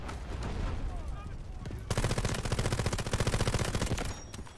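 An automatic gun in Delta Force Hawk Ops fires one long, rapid burst of closely spaced shots after a quieter opening with background game noise.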